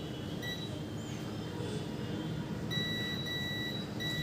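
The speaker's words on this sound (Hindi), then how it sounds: "यानी ये बीप साउंड शो करेगा" A multimeter on continuity test beeps while probing resistors on a Vivo phone's ringer circuit during repair, giving short thin tones over a steady background hum, with a longer sustained beep near the end.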